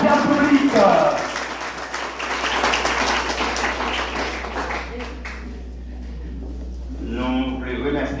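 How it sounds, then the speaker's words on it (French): An audience claps for several seconds at a Limonade motorcycle development association gathering. The steady applause swells, then fades, with a voice speaking before and after it. "Sur votre applaudissement, cher public."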